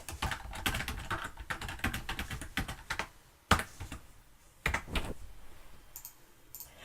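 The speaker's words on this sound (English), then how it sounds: "I'm going to hit enter and then enter a second time to place that polyline down onto this drawing" Computer keyboard keys tapped in quick bursts, a clattering run of typing followed by a few separate, sharper keystrokes like presses of the Enter key, close and clear with no voices.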